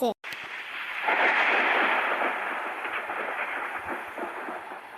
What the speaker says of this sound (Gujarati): ગાજવાનો અવાજ આવે